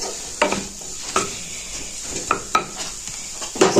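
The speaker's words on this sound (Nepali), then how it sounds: "म्यास गरेको आलु राख्ने र यसलाई चाहिँ एकछिन भुट्ने" Mashed boiled potato for samosa filling fries in a pan under a soft, constant sizzle, broken by several distinct scraping clinks as a utensil stirs and knocks against the pan.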